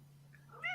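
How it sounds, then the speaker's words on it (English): A cat gives a short, faint meow near the end, rising out of a quiet room with a low steady hum underneath. "sounds like the kitty cat doesn't like Shen too much either"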